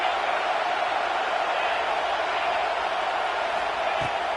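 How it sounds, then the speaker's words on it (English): Steady, dense roar of a large stadium crowd in a college football video game, a continuous wash of cheering and noise with no pauses. "This crowd bringing the energy and noise early."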